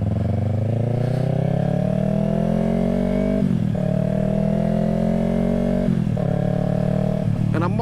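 Yamaha R3 motorcycle with a bigger rear tire being ridden, its engine droning steadily, rising in pitch through the gears with brief drops at each shift, loud and close under wind noise.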